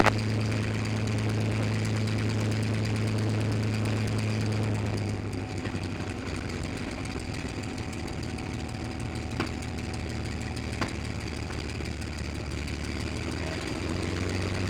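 A P-51 Mustang's engine idles at about 1,000 RPM, a loud, steady, close low drone. Partway through, its tone drops slightly and grows rougher. No one talks.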